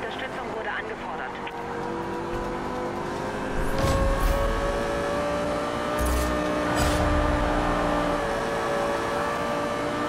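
Cars racing in a police pursuit in Need for Speed Rivals, with steady engine drone and revving, tyre and motor whine rising mid-clip, while a dispatcher-style voice talks over it.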